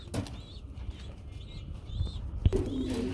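A male Lahori pigeon coos softly in low repeated calls, with a burst of wing flapping near the start and light background noise throughout.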